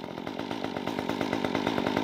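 A Stihl MS 194T top handle chainsaw engine runs at a steady idle nearby, a continuous buzzing drone with a fast regular pulse and no cutting.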